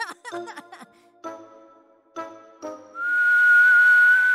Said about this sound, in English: A low whistle outside recalled him to the window.